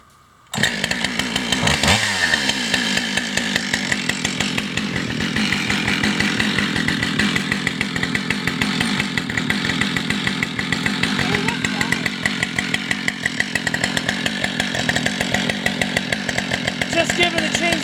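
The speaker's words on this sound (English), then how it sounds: "just giving the chainsaw a minute to warm up." A chainsaw starts with a sharp burst and then idles steadily while warming up, a loud, close, rapidly pulsing engine putter that holds an even rhythm throughout, with a voice occasionally audible over it.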